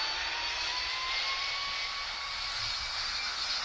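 Boeing 747 jet engines spool up for takeoff in the PTFS video game, a loud steady high-pitched turbine whine and roar that holds evenly throughout with no voices.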